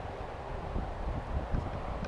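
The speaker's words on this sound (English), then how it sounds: "especially on a cloudy, windy day like it is today" Wind on a cloudy, windy day at a small pond in San Antonio rumbles across the microphone in low, uneven gusts, a steady buffeting with no voices.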